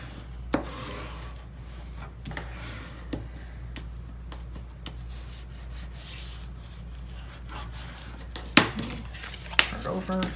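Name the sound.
burnishing glued paper in a mini album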